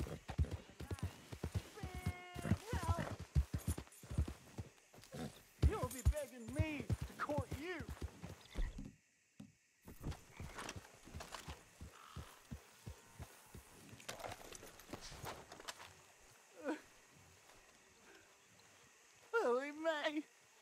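Hooves clop rhythmically as a horse is ridden in Red Dead Redemption 2, the footfalls running under frequent spoken commentary, with a pause of near silence partway through.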